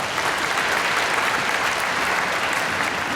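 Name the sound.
audience applause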